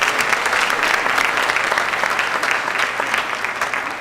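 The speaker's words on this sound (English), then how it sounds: "let's give them a round of applause" Audience applauding the English faculty at a school district convocation, steady dense clapping from a large crowd held at an even level throughout.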